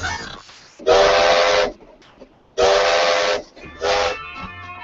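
A steam train whistle used as a radio ad sound effect for the 2014 Blues Train running from Anchorage to Seward gives three loud, hissing blasts. The first two are long and the last is shorter, with brief gaps between them.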